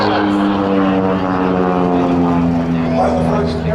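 An aerobatic propeller airplane performing at the St. Louis riverfront airshow, a loud, steady droning engine hum close overhead, with crowd voices faintly under it.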